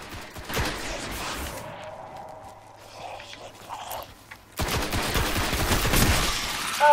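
Gunfire from the video game Destiny, bursts of shots early on, a quieter stretch with tonal hum, then dense rapid firing crowding the last two seconds, loud and close.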